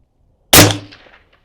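An AR-15 built as an accurized DMR-type predator-hunting rifle fires a single loud shot on a range, a sharp crack followed by a short fading ring and echo.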